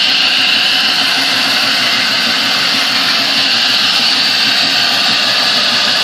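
A 1948 AMT table saw running on its continuous duty motor gives a steady, smooth, loud whirring drone that holds even from start to finish, with no rattle or change in pitch.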